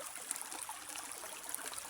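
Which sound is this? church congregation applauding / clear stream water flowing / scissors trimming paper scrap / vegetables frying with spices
clear stream water flowing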